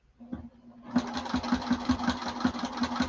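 A sewing machine topstitches on webbing for a duffle bag. It starts after a brief pause, then runs in a steady, rapid needle rhythm, close and fairly quiet.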